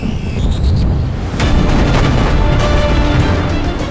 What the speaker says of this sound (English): This is when the Clevelands opened fire at cruiser Sendai.